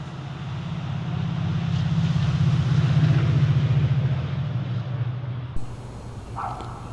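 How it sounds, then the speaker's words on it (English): A rotary cultivator loosens lawn soil, a steady low motor drone that swells and holds for about five seconds, then cuts off abruptly, leaving quieter background noise with a brief higher tone near the end. "I'll start off by using the rotary cultivator to loosen up the soil a bit"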